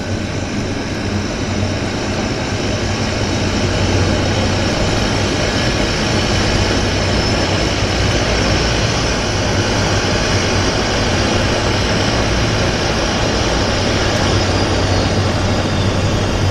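A de Havilland Twin Otter floatplane climbs out after takeoff from a float base, its propeller engine drone steady and loud throughout, a continuous broadband roar with low hum and no pauses.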